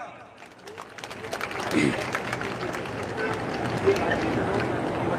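Villagers gathered at a water protest sit-in in Chainat break into applause, scattered clapping swelling into a fuller round beneath crowd murmur and a speaker's voice, moderately distant and steady across the few seconds.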